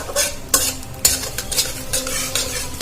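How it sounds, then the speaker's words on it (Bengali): Dried red chili and asafoetida fry in oil in a pan over a low gas flame, with a soft steady sizzle and sharp metallic scrapes of a spoon stirring at intervals, close by. "দিয়ে দেব শুকনো লঙ্কা একটা, আর দিয়ে দেব হিং। আমি এটা ভেজে নেব।"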